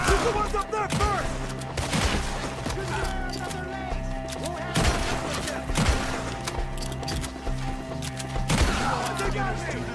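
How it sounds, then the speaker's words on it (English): Rapid gunfire rattles through a Red Dead Redemption 2 shootout, sharp loud shots bursting in clusters over a steady backdrop of game sound, with horse hooves clip-clopping faintly in places. "Shoot the ones up there first."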